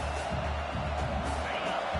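Video game stadium crowd cheering during a football defensive play, a dense continuous roar of many voices filling the space at steady loudness, with no clear speech over it.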